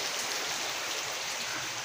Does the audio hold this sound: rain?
yes